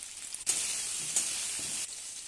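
Spices and meat frying and being stirred in a pan with oil, turmeric and a little salt: a steady bright sizzle with a few stirring shuffles, close and fairly quiet.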